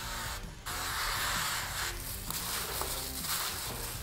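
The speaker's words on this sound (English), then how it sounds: "We're gonna start with some duck fat spray," Short bursts of duck fat cooking spray hiss close by over chicken wings, several sprays in quick succession with brief pauses between them.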